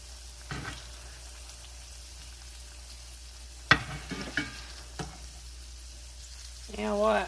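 Salmon nuggets frying in a pan make a soft, low sizzle punctuated by a few sharp clicks and scrapes of turning, with a voice speaking briefly near the end.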